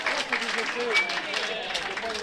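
Crowd at an amateur rugby reserve match, Vinay against SCR, applauds a try, a steady wash of clapping and cheering heard from a distance while a commentator talks over it throughout.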